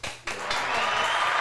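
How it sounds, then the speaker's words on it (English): Steady audience applause fills the room during a lively kitchen-set talk show, rising after a brief lull and holding as a dense, continuous wash of clapping close by. "Yeah, I got to applaud."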